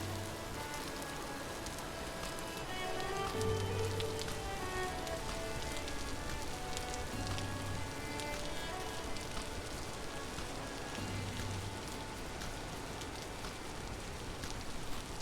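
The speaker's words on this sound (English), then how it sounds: "It's raining every day." Steady rain falls in the Vintage Story video game, an even hiss of drops spread across the whole stretch, with faint low tones underneath and no talking.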